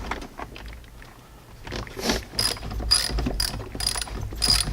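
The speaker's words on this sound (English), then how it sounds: "So just tightening the clamps back onto the terminals here." A hand ratchet tightens the battery terminal clamps on a Jeep JK, giving close, crisp clicking that starts faint and turns into bursts of rapid clicks; no talking.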